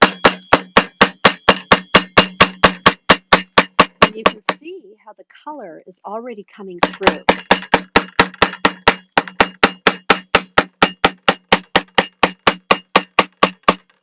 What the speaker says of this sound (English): I'm going to be hammering, try to find right where the flowers are